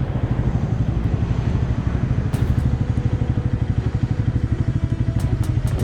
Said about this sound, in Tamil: பைக்கை உள்ளே எடுத்து ஃபன் பண்ண ஆரம்பிச்சிட்டோம்.